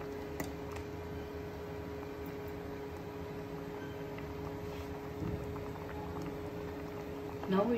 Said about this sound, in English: Now it is boiling properly.